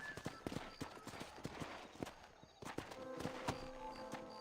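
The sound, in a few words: horse hooves walking in a video game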